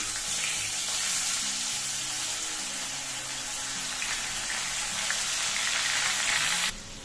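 Soaked chana dal stirred in a hot pan with cloves, cardamom and cinnamon, producing a continuous dense sizzle at close range with no talking.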